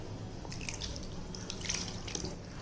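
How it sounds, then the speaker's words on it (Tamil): Water pouring and trickling into a bowl of dosa batter, a light, splashy stream with small drips and gurgles over a low background, no talking. "இப்போ நம்ம தோசை மாவு அளவுக்கு தண்ணி ஊற்றிக்கிறோம்."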